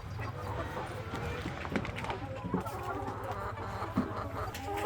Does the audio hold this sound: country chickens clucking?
yes